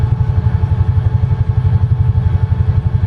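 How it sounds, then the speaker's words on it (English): A UH-1 helicopter in Microsoft Flight Simulator runs with its engine and rotor up to speed, giving a steady, loud, low rhythmic thumping of blades over a constant turbine drone, with no other sounds. "Rotor speed is up. Engine is up."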